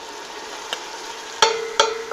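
Garlic and onions sizzle in bacon fat for a bacon and potato soup, a steady close frying hiss broken by two or three sharp scraping stirs of a utensil in the pot.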